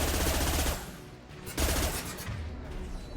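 Tempest submachine gun firing at short range in Mass Effect 2, with loud, rapid bursts of automatic fire, a brief pause, then more sustained shooting close up.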